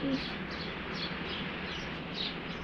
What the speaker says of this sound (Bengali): আমি আবার ছাদে বসে ভিডিও করতেছি, তাই দেখেন প্রচুর আওয়াজ পাখি।